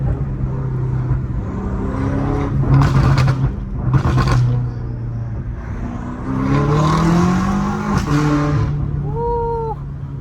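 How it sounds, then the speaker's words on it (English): A BMW M5 Competition revs close by in rising and falling exhaust sweeps, with bursts of crackling pops along the way and a high whistle near the end. "I love how this car just, the turbos whistle so loud, like on the lowest RPMs, lowest speeds, everything low, and it just whistles"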